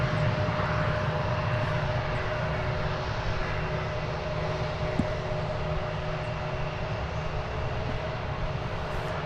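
Boeing 737-800 airliner arriving at DFW Airport, its steady jet engine roar and broadband rumble holding at an even loudness throughout, with a faint tonal whine riding above the drone.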